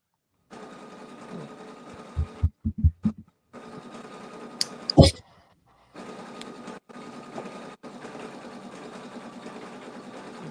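Embroidery machine stitching a decorative pattern on an in-the-hoop project, a steady mechanical whir broken by brief pauses and a few knocks and clicks, with no talk.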